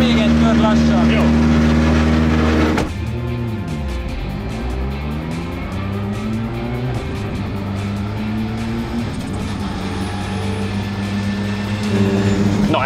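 A hot Hyundai i20 R5 race car engine idling and rumbling as it is driven slowly away to cool down, a steady loud drone with people talking over it.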